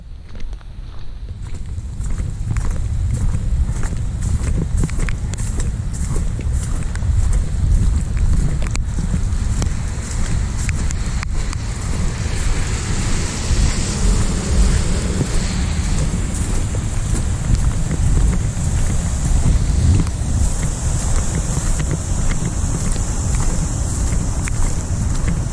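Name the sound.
rain falling while walking in Dallas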